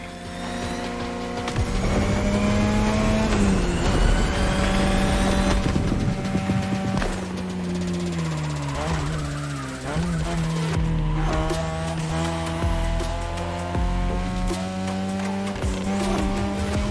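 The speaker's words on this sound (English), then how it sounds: "Tonight, your ride is a third-gen 2002 Mazda RX-7. Lightweight, compact, a sick rotary engine" A third-generation 2002 Mazda RX-7 with a rotary engine races in The Crew Motorfest, its high buzzing whine rising and falling through gear shifts, with tire squeal and someone speaking over the steady engine drone.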